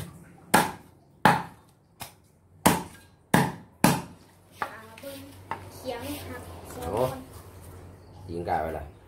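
A chicken carcass is chopped with a series of sharp, loud thwacks at a steady pace, then softer knocks and clatter as people talk nearby.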